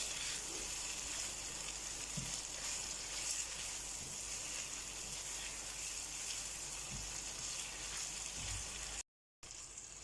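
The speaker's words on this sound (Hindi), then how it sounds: "कलेजी को 5 मिनट हमने अच्छी तरह से भून लिया है।" Goat liver pieces fry in a pan, a soft, steady, even sizzle running throughout with a couple of faint low bumps and a brief dropout near the end.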